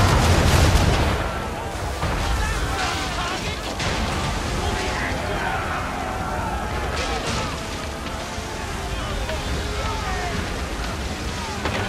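Ship cannons fire in Assassin's Creed III, a dense, loud barrage of booms and crashes that rolls on without pause, with voices shouting over the din.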